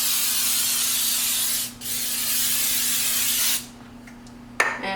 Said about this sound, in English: so I'm just gonna spray my pan.